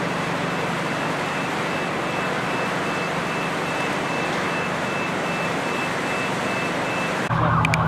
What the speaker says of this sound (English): we have more uh, trucks coming through with their sirens on